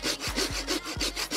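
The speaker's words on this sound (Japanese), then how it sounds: "この枝をノコギリで短く切ります。" A hand saw cuts a short fallen tree branch at a campsite, with steady back-and-forth strokes repeating about every half second, close and fairly loud, with no talking.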